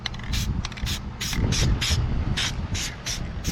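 Short, repeated bursts of aerosol spray hissing in a steady rhythm as a car wheel is sprayed with Hyperdip, close by, over a low rumbling background.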